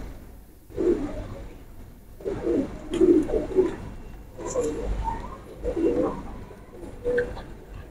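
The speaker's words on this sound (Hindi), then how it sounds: "ये हरे कबूतर है दोस्तों" Royal teddy pigeons, including a red-eyed male, coo in soft repeated bursts, low throaty calls rising and falling steadily through the clip, close and clear with no talk over them.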